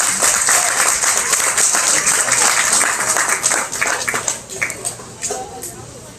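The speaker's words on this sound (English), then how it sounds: "Let's give those kids a round of applause as they exit the ring." An audience applauds at a 2020 goat show as a class of young exhibitors leaves the ring. The clapping is steady, dense and fairly loud for about six seconds, thinning slightly near the end.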